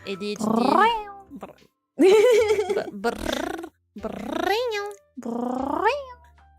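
A person imitates a cat's meow several times in a row, each drawn-out, rising and wavering, with short pauses between, loud and close.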